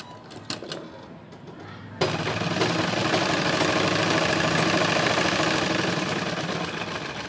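Sewing machine stitching a border seam on fabric for a lehenga: a brief soft ticking start, then the motor runs loud and steady with a fast, even stitching rhythm to the end.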